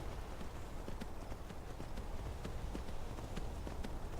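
Horse hooves clop in the video game Skyrim, a steady rhythmic run of hoofbeats under a constant loud background wash, with no talking.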